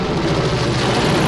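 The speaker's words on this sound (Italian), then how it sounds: "Motore!" A vehicle engine runs in the video game Wolfenstein: The New Order, a loud, dense, steady rumble lasting just over a second with no talk.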